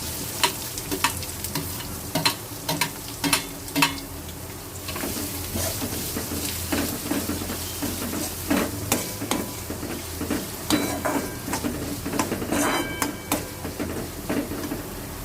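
Two large green chillies and a finely chopped onion with garlic fry in hot oil, crackling and sizzling steadily while a utensil scrapes and taps the pan in frequent strokes, close and moderately loud.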